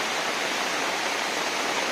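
Water rushes over Nekkarekalaya dam in rainy weather, a steady, dense roar of broadband noise that holds constant and close with no other sounds.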